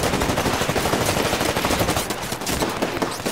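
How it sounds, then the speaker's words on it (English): Automatic weapon fire from the Titanfall video game, a dense continuous rattle of rapid gunshots close and loud throughout, dipping briefly before resuming. "Oh, I'm being shot at."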